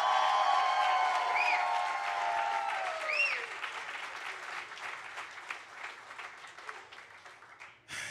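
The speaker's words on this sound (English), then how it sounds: "let's give them one more round of applause" An audience at a live jazz competition gives a sustained round of applause, dense clapping that gradually thins and fades toward the end, with no talking over it.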